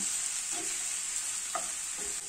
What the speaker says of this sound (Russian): Лук готов, отправляем его на разогретую сковородку.